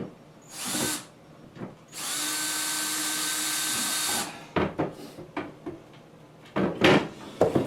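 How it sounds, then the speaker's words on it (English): A screwdriver, apparently powered, backs Phillips screws out of old kitchen cabinet doors during a demolition. Two short whirring bursts bracket one long, loud, steady run of the motor, followed by scattered clunks and knocks of hardware and wood. "just taking the screwdriver and taking the screws out of everything"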